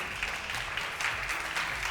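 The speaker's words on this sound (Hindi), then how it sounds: "बहुत सारी तालियों में।" Studio audience clapping on a televised Ramazan debate show, a soft, even patter of many hands with slight swells, somewhat distant and continuous without talk.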